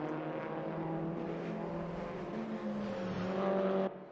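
Racing car engines whine and rise in pitch as cars pass during qualifying at Brands Hatch, a steady mechanical hum with shifting tones, then a sudden cutoff near the end.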